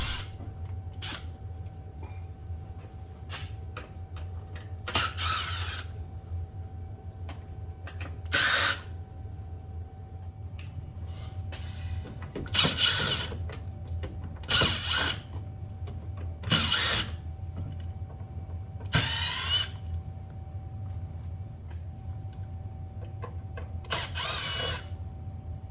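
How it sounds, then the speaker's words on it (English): A power tool fitted with a T15 socket whirs in repeated short bursts, pausing between each, while removing inner fender well bolts on a 2016 Cadillac ATS, over a steady low hum. "Here's where that T15 socket comes into play to take out all the inner fender well bolts"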